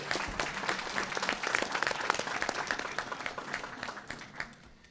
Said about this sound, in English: if you could all join me in a round of applause for our sponsors once again